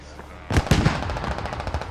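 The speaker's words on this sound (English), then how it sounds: "they are trying to keep shooting a striker here that's beached on the wall" Gunfire and rocket blasts in SquadOps hit an abandoned striker beached on a wall, opening with a sharp blast and followed by a rapid, fairly distant string of shots under a voice.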